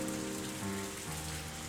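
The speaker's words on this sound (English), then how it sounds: "listening to the sound of the rain increasing in intensity once more" Rain falls steadily in the dark on Christmas, a continuous hiss of drops on a surface with a faint tonal hum underneath, swelling slightly as it goes on.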